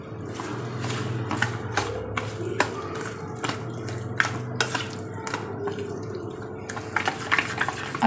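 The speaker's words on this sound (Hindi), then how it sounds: "अब थोड़ा पानी ऐड कर रहे हैं" Water is poured into a bowl of semolina and curd batter, giving soft trickling and splashing with scattered small clicks of utensils against the bowl. The sound is faint and close.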